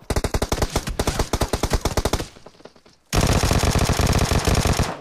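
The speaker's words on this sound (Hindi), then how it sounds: "पीछे से मेरे पे शॉट आ रहा है" Automatic gunfire in PUBG: rapid machine-gun bursts rattle close and loud, break off into a brief lull, then resume as one long sustained stream of shots.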